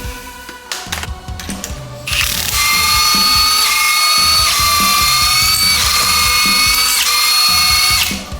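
A power impact tool loosens the wheels on a GR86: short ratcheting bursts at first, then a loud sustained whine with a high whirring tone, close and continuous, with no talk.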